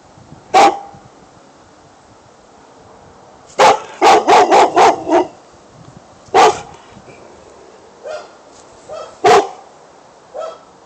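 Neighbor's dog barking in sharp bursts: a single bark, then a rapid cluster of five or six, then more scattered barks, loud and close outdoors with nothing else heard.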